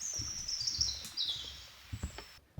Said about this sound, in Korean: 이 숲길에는 산새소리가 참 정겹게 들리고 있습니다